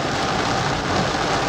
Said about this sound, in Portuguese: E não para de chover, desde manhã.